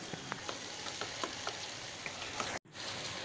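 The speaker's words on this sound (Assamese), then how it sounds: "মাংসখিনিৰ লগত যাতে মছলাখিনি ভালদৰে মিহলি হৈ যায় সেইকাৰণে আমি ভালদৰে লৰাই দিছোঁ মাংসখিনি" Quail meat frying in spice masala while being stirred: a close, steady sizzle with scattered pops and scraping stirs, broken by a brief silence near the end, with no voices.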